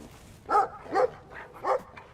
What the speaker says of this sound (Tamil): நாய் வந்து நம்மள்ட்ட வரும்னு நினைக்கிறேன்.